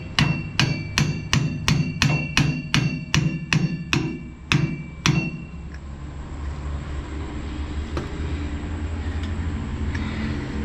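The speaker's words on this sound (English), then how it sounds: "you may have to take a hammer and tap it down in there" About a dozen sharp hammer taps on a metal shock part on a Benson 524 trailer in the rain, even rhythm, close and ringing, then they stop and a low background hum carries on.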